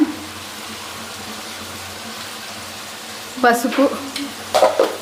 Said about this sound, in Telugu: గుడ్లు అయితే వేసుకొని ఒకసారి బాగా కలుపుకుందాం